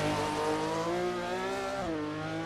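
Race car engine roaring continuously at a hillclimb's opening hairpins during a European hill-climb championship round at Erice, pitch rising and then dropping as the car shifts, loud and steady with no talk.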